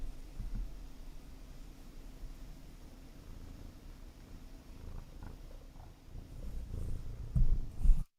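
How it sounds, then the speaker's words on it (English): A cat purrs close by in a low, continuous rumble beneath faint hiss, with a few louder rustling bumps near the end. "you're getting purred on"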